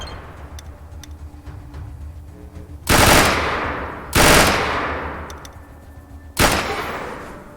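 Three loud bursts of pistol and submachine gun fire in ATOM RPG, each a harsh rattling volley about a second long, separated by quieter gaps with faint ticking.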